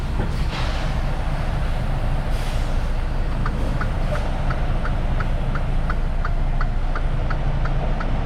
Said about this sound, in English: He let his airbags down so he can hop out from under the trailer.